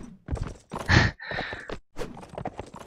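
Horse hooves clopping in a video game match, a quick uneven run of fairly loud hoof strikes mixed with game effects and brief snorting or whinny-like sounds, no talk over them.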